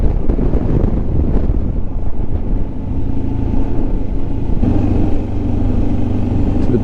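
Steady, heavy wind roar buffeting a riding motorcyclist on the west coast of Scotland with a tailwind, loud and continuous throughout with a faint engine drone beneath and no talk.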